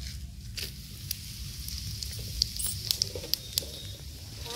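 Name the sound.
dry chillies, cumin and whole garam masala sizzling in hot oil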